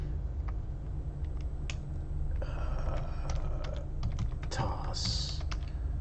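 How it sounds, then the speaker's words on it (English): Computer keyboard typing while entering text in the Windows 10 Photos app, a quiet run of soft clicking keystrokes in short bursts over a low steady background hum. "And up here you type it in"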